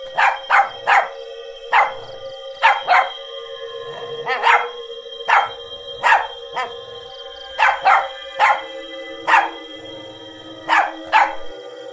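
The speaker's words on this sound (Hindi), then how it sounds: "फिर टफी वहीं रुक जाता है और जोर जोर से भौंककर अपने साथियों को पुकारने लगता है" A dog barks repeatedly in loud, sharp bursts, mostly in quick pairs and triples with short pauses between, over a steady high electronic tone in the background.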